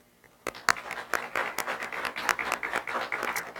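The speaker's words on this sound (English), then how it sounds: "Give yourselves a round of applause for being such an attentive audience." A small audience claps after an evening session lecture, with scattered individual hand claps forming a moderate, uneven round of applause that starts abruptly and continues steadily, fairly close, with no talking.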